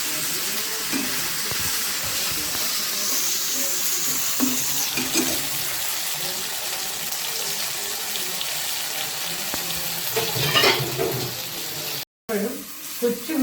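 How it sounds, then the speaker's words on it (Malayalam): Okra slices for vendakka pori fry in hot oil with a continuous hissing sizzle, joined by stirring clatter and brief bursts of louder spattering, and someone speaks intermittently over it. "ഞാൻ ഓരോന്നാക്കിയിട്ട് പൊരിക്കാൻ പോവുകയാണ്."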